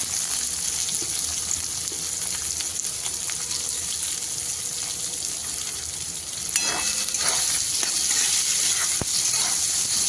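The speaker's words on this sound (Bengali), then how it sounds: "এবারে কিছু মশলা আমি এখানে হালকা করে ভেজে নেব। প্রথমে দিয়ে দিচ্ছি গোটা জিরে, বড় সাইজের একটা কুচানো পেঁয়াজ" Whole cumin seeds and a large chopped onion dropped into hot oil for egg curry: a loud continuous close sizzle that jumps in intensity as the onion goes in, with a few sharp clatters, no talking.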